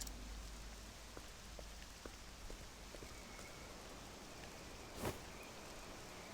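Steady, soft rain in the video game Octopath Traveler 2 hisses continuously with occasional light drips and taps, and one brief louder crackle near the end.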